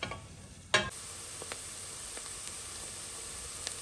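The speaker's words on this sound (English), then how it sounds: "we're going to saute these onions for a couple minutes" Onions sautéing in melted butter in a pan over medium-high heat, a soft continuous sizzle with a sharp clatter near the start and a few faint clicks, quiet and close.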